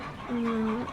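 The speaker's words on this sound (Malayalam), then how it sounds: "ഇനി അപ്പുറം സൈഡിലായിട്ട് നിറച്ച് കോഴികൾ" A single drawn-out cluck from a nearby chicken, short and clear against a low background murmur.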